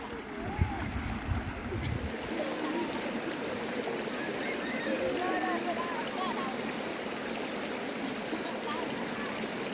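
Steady flowing stream water at a village bathing and washing spot in rural Laos, a continuous trickling wash throughout with scattered bird chirps and a faint splash near the start.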